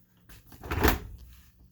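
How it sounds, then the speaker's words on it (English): A single short creak and thud of an RV residential refrigerator door swinging open, brief and close, then quiet. "Refrigerator doors open"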